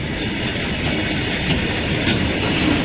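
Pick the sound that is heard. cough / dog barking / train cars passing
train cars passing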